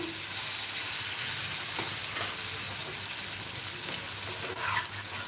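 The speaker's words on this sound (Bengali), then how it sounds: "আমি সবজি রান্না করতেছি" Vegetables stir-frying in a pan, a steady close sizzle and hiss throughout with occasional scrape and stir sounds, no talking.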